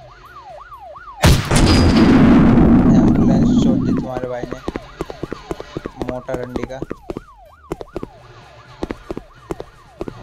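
An ambulance siren in the video game GTA 5 wails in repeated rising and falling sweeps, broken by a loud, sustained blast and a run of sharp gunfire-like bangs, while someone talks over it.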